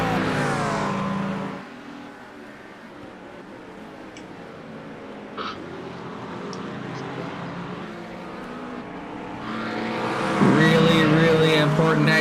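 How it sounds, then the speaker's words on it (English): Acura NSX and Mustang race cars in the iRacing game at Imola, engine drone fading back into a steady hum and then rising again near the end, heard beneath ongoing commentary. "Josh Willis getting a solid exit tucking in behind that ginormous Mustang in his Acura NSX"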